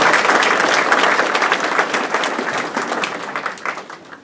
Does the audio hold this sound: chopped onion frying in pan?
no